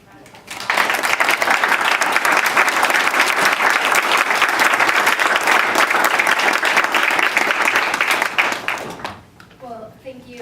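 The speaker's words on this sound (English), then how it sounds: "Can we give our students a round of applause?" An audience applauds creative writing students in a sustained, loud round of clapping that swells quickly and holds for about eight seconds before tapering off, with a voice starting to speak as it dies away.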